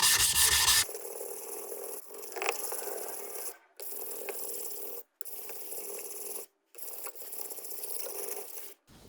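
A Japanese kitchen knife being refined on a 400 grit Chosera whetstone, with close, loud rasping strokes of steel scraping across the stone, repeated in several bursts separated by brief silent pauses.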